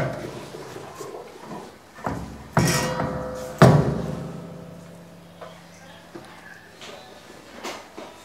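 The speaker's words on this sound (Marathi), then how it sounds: "आता याला आकार येण्यासाठी या मशीनमध्ये आपण याला प्रेस करत आहोत." A machine presses laddu balls into shape, giving a few heavy thumps and clanks with ringing decay amid low background noise.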